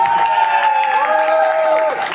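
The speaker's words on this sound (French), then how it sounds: "tonnerre d'applaudissements pour l'instant" A festival audience claps and cheers at a comedy show, a dense burst of applause and crowd noise that stays loud, with a few raised voices mixed in.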